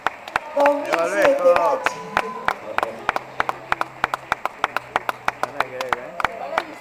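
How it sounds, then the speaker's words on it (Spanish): Audience applause for a best actor winner at a theatre awards ceremony, sharp hand claps popping irregularly and growing steadier, under someone speaking into a microphone. "También recibir el aplauso de los colegas, de los otros artistas"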